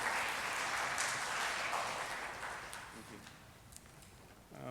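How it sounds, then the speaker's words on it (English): Audience applause after a talk at an academic panel on development in Africa, a dense steady clapping that gradually thins and fades toward the end. "Please, another round of applause for the professor."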